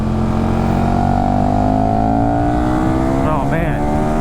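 A 2015 KTM Super Duke motorcycle pulls hard out of a corner, its engine note climbing steadily and loudly with wind rush over a continuous drone.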